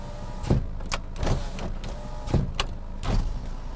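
A 2009 Kia Forte power window hums down and back up in quick, smooth motor strokes, each stopping with a light clunk; fairly quiet and close.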